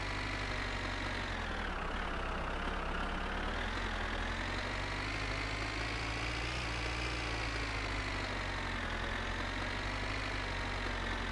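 A tractor engine idles in the video game My Winter Car with a steady, loud, low rumbling drone and a slight knocking beat, with no break and no voices.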